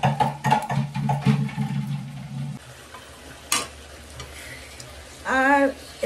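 A spoon stirs ginger paste, chili paste, ghee and turmeric together in a pan. Soft, irregular scraping and light sizzling come close and fairly quiet, with a short vocal sound near the end.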